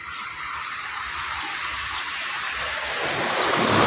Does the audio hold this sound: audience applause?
no